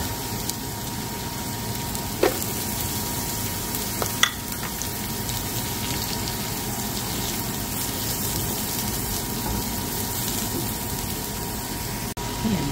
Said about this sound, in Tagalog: Gisa-gisa lang. Bawang sibuyas.